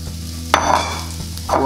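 Onion sizzles in a hot frying pan for a sweet and sour chicken dish, with two distinct stirring scrapes breaking the steady close frying hiss.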